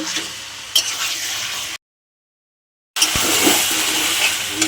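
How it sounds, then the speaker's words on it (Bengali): Mutton for curry fries and is stirred in a pan, making a steady close sizzle with occasional scraping, cut off briefly by a second of silence before the hissing resumes. "তো আমি মটনটা দিয়ে দিলাম আর একটু ভালো কষে নেব।"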